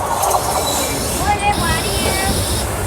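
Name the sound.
passenger train running on rails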